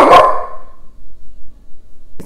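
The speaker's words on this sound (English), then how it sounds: "Gosh, my dog is so noisy." A dog gives one loud, sharp bark close by, followed by quiet with faint low background rumble.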